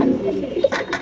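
Pakistani pigeons kept with their eggs coo in short, soft, throaty bursts close by, over a faint background murmur.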